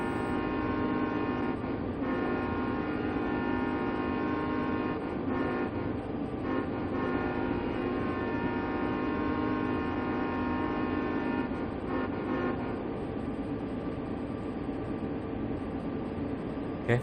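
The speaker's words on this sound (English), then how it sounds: "So we got a crossing home, so I'm gonna sound the horn." A freight locomotive's horn sounds steadily as the train nears a grade crossing. The tone is loud and sustained over the rumble of the engine, with a few brief dips before it trails off near the end.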